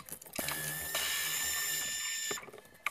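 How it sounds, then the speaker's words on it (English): A 3/4-inch socket turns nuts off the studs of a boat tower base plate, giving a steady mechanical whir with ratcheting clicks for about two seconds, close and fairly loud, with no talking. "Go ahead and remove those three nuts. It's a 3/4-inch socket."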